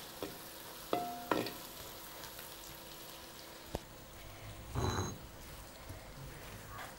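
Spices splutter and crackle in hot sesame oil for a village-style stingray fish curry, brief faint sizzles and stirring clinks rising in a short burst before settling back to a quiet simmer.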